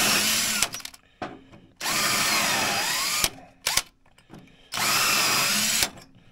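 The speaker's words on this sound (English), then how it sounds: "This is just a 3/16 drill bit." A 3/16 drill bit widens holes in a Polaris TX340 snowmobile clutch helix, three loud bursts of power-drill whine at the start, middle and end, separated by quieter pauses with brief clicks.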